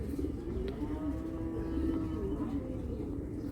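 Pigeon cooing in a loft of Belgian, Dutch and German bloodline racing pigeons: a low, steady, continuous murmur of coos close by, with no voices.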